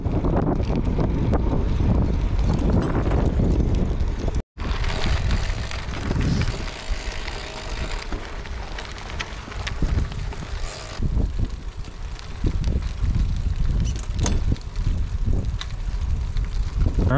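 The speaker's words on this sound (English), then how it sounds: "here on the Katahdin, doing a gravel road ride. Feels real stable, going 30 miles an hour." Panorama Katahdin gravel bike ridden fast along a gravel road, with steady wind buffeting, tire rumble and crunch continuing throughout and a brief dropout near the start.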